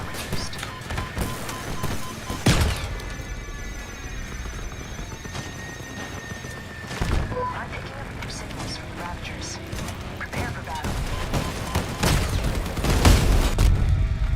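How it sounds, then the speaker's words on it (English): Gunfire sounds throughout a video game, with sustained bursts, several loud booming shots and mechanical clatter, all under a speaking voice. "I see it, just non-stop fire, non-stop rate of fire going on."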